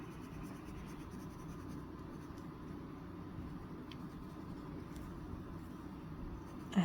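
A yellow colored pencil burnishes across paper, making a soft, steady scratchy rubbing that continues quietly and evenly with no talking.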